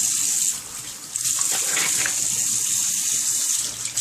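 Tap water runs in a steady gushing stream as someone rinses their face at a sink, close and continuous, with faint movement in the splashing.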